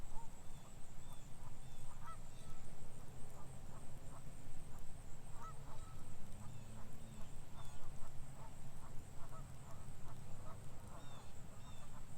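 Waterfowl honk and quack near the water during a fishing outing, a busy run of repeated calls that continues over steady background noise.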